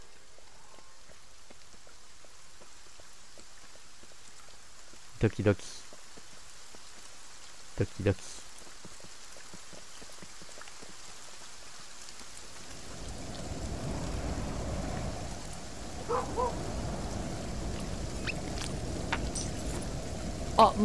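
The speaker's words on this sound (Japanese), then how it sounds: "雨降ってるけど大丈夫？" Rain falls in the video game Kingdom Two Crowns Shogun, a soft hiss that swells louder in the second half, with a few sharp clicks and brief spoken interjections over it.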